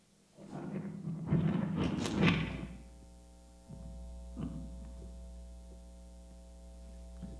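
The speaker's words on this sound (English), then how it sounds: "I have a string of Christmas lights here that I've wired up with very sensitive microphones" Strings of Christmas lights wired to very sensitive microphones give off a steady electrical hum with faint buzzing overtones, preceded by a brief louder rustle and a few soft thumps.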